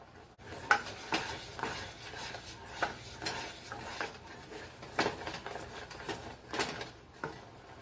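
Thick sauce for a chocolate raspberry crescent ring simmering in a pan while being stirred, with steady scraping and soft clinks of the utensil against the pan, repeated strokes and a faint sizzle underneath, close and fairly quiet, no talking.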